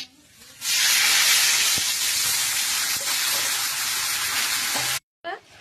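Dried chillies, bay leaf and five-spice dropped into hot mustard oil for a chutney tempering, bursting into a loud sustained sizzle and hiss that cuts off abruptly, followed by a brief faint sputter.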